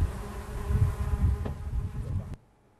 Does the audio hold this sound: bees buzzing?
yes